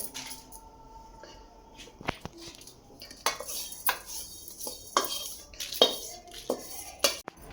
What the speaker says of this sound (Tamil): வேறு பாத்திரத்தில் மாற்றிடுறேன்.